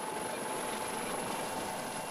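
A helicopter flies overhead, its rotor making a steady, distant whine and wash of broadband noise, fairly faint and even throughout, with no voices.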